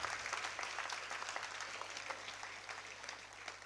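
Church congregation at a New Year Mass in St. Francis Parish claps together, a steady even patter of applause heard at moderate distance with a low hum beneath.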